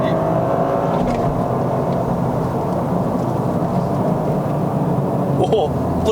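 A 2023 Toyota GR Corolla in Sport Mode accelerates on a Malaysian test drive, giving a steady, loud engine drone heard from inside the cabin throughout, with a brief rattle near the end.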